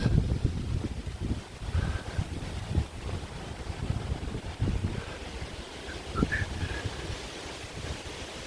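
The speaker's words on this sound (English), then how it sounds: "It's really windy today." Gusty wind roars and buffets the microphone outdoors in Southern Cemetery, Manchester, a steady rumbling rush with no talking.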